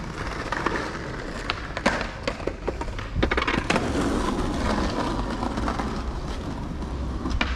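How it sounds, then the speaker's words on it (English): Rolling skateboard wheels rumble over pavement with scattered sharp clacks and board pops, set against continuous outdoor street noise in central Cardiff. "Got skateboarders skateboarding, you can probably hear that outside."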